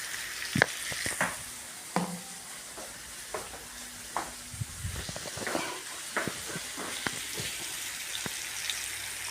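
Turmeric, fennel and chili powders get stirred in a hot frying pan, a soft, low sizzle under a series of scattered spoon scrapes and taps against the pan, fairly quiet and close.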